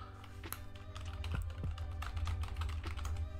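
Fast, steady typing on a computer keyboard, a continuous close patter of key clicks with no voices over it.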